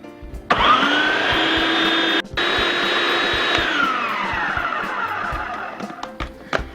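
A food processor whirs at full speed while mixing pumpkin pie filling, a loud, steady motor whine that cuts off for a split second, restarts, and then slowly winds down, close.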